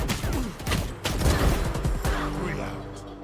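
Gunfire from a Valorant weapon with the Ora skin, loud rapid shots crowding the first two seconds before easing into a lingering ring, with talk mixed underneath.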